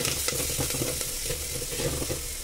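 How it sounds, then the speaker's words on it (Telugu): Spices and curry leaves tempering in hot oil for a drumstick dal charu, crackling and sizzling steadily throughout, with light stirring scrapes in the pan and no voices. "తాలింపు వేయగానే అట్లా చిట్టుపట్టమంటే అప్పుడు మనకి ఆయిల్ మంచిగా ఇదైనట్టు"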